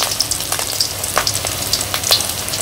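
Fish roe fritters coated in batter fry in hot oil, a close, continuous sizzle with scattered sharp pops and crackles in a village kitchen.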